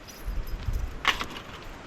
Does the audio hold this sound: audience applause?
no